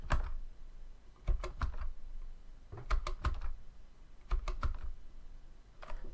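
Quick bursts of clacking computer keyboard keys, typed in three or four short clusters with pauses between them, close and fairly quiet, as code is entered.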